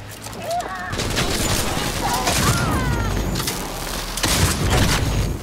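Shotgun blasts in Cyberpunk 2077 land as several heavy booms spread through the moment amid busy game effects and whistling tones, with a voice talking partway through.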